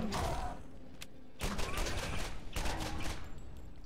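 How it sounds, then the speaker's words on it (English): Incendiary repeater pistol firing in the Borderlands video game against spider ants, heard as several rapid bursts of close, crackling shots separated by short pauses. "I'll use my incendiary repeater"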